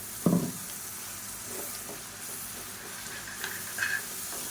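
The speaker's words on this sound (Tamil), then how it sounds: "இது நல்லா எண்ணெய் பிரிஞ்சு வர அளவுக்கு வதக்கி விட்டுக்கலாம்." Ground tomato and cashew paste fries in hot oil for a paneer gravy, giving a continuous close sizzle with a few scraping stirs and clacks of a spoon in the pan.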